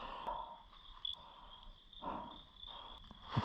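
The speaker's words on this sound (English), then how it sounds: "It's frogs making those noises." Frogs calling at night on Table Mountain, a faint, thin chorus of high chirps and trills repeating at a distance over quiet background.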